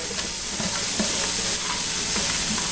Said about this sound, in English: Pan's probably nice and hot. We're going to throw it in there. Oh yeah, you can hear it sizzle.